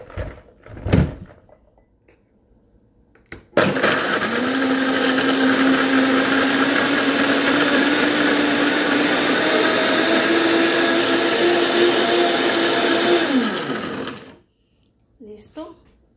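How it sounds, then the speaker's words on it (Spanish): A blender grinding blue margarita whirs loudly and steadily for about ten seconds, then winds down and stops, with a few brief clunks before and after. "ahora lo vamos a moler en la licuadora"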